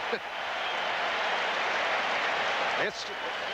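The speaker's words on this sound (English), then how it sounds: "Crowd cheering" A stadium crowd at a 1983 Raiders at Seahawks football game roars in a steady broad wash of cheering and applause, loud and sustained, with a brief dip near the end.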